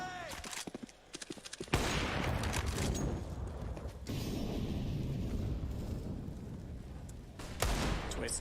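Pistol gunfire from Desert Eagles and a CZ in a CS:GO pro match, scattered sharp shots early, then a dense roar of crowd and game noise under a commentator's talk.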